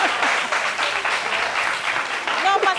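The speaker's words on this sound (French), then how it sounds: "Merci, applaudissez." A studio audience claps steadily and densely on a French television talk show, the applause staying loud throughout, with a few voices rising over it near the end.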